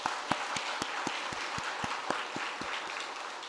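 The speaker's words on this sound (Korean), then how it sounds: "우리 아이들을 위해서 또 한번 박수할까요?" A church congregation claps for the children during a Sunday worship service, steady rhythmic applause with distinct regular beats standing out over a softer wash of clapping, moderately distant and without speech.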